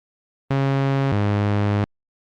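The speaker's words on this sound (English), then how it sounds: "Get it wrong and it's a bad sound effect and no picture." Wrong-answer buzzer from a 1992 cover-disk quiz game: a single harsh, buzzy electronic tone lasting about a second and a half, stepping down to a lower pitch partway through, loud and alone in silence.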